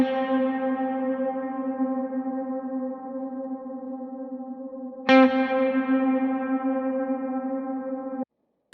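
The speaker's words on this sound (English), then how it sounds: "Now I'm going to switch over to the hall, and we're going to listen to the same settings on the dynamic hall." Electric guitar through a dynamic hall reverb, two long sustained chords each struck once and left to ring out in a wide, shimmering wash, loud and unaccompanied before stopping suddenly.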